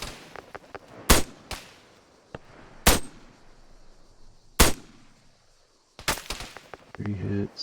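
Rifle fire in Arma 3 Warlords: several sharp, loud single gunshots spaced a second or more apart, each with a short echoing tail, with a brief voice near the end.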